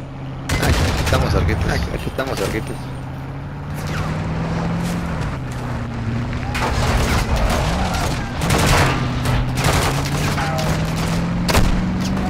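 Gunfire in Call of Duty: repeated bursts of automatic fire and booming shots over a continuous droning engine-like background, with a shouted voice amid the battle noise.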